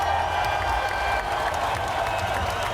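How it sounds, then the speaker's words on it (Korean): Congratulatory applause at a church high school youth worship service for students receiving perfect attendance awards, a steady dense clapping from the congregation with a low murmur underneath throughout. "개근상 받은 친구들에게도 또 한 번 더 축하 박수 드리도록 하겠습니다."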